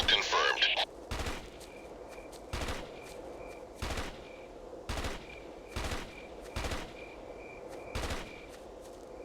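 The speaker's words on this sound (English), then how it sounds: "I don't know who's shooting where." Repeated gunshots in the tactical shooter Ghost Recon ring out in a steady rhythm, roughly one sharp crack every second, with a faint electronic beeping pattern running between them and a brief burst of noise at the start.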